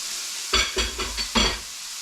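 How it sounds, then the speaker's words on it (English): Roast beef set down with tongs in a hot pan, sizzling steadily with a few sharp bursts of searing and scraping, close up and with no voices. "start searing it."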